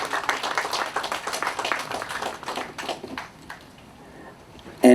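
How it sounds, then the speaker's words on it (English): Audience applause at the opening day ceremony of an outdoor market days event, steady clapping from a crowd that thins and fades over several seconds before a brief louder sound at the very end. "Let's have a nice round of applause for these folks."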